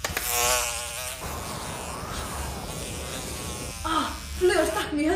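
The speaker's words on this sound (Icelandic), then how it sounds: "En Loki í gervi flugu ætlaði að trufla þá" A fly buzzes as a sound effect in a spoken Icelandic retelling of a Norse myth, a close, wavering insect drone that rises and dips over a few seconds, with no talk over it.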